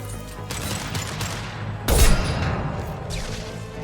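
Rapid bursts of gunfire in the Mass Effect Legendary Edition video game, crackling over a dense battle din, with one sharp, heavy blast near the middle followed by continuing shots.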